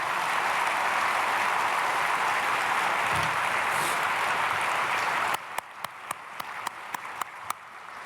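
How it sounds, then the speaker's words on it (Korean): A church congregation at a Sunday worship service applauds in a steady, dense wash of clapping that fills the room, then tapers into a few scattered, separate claps. "박수로 맞이하겠습니다."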